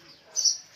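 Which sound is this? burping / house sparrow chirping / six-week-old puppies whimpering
house sparrow chirping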